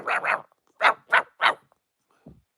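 A small dog barks five times, two quick barks and then three more after a short pause, close and loud, ending in a faint whimper.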